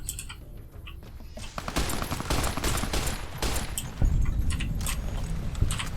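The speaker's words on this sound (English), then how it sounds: "I was just firing some pot shots at him and there you go, he's dead." Pot shots of gunfire crack out in Fallout New Vegas, a string of irregular sharp shots over a busy background, growing denser midway with a louder burst near the end, no talk.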